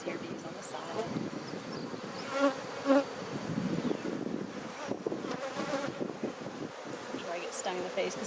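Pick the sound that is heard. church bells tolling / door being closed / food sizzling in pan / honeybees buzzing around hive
honeybees buzzing around hive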